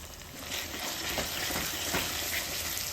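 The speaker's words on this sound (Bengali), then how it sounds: "সামান্য একটু জল দিয়ে মশলাটা কষিয়ে নেব।" Water is added to a spice paste of tomato, cumin, coriander, chilli and turmeric frying in a pan, giving a dense, continuous close sizzle and bubbling hiss with faint stirring scrapes.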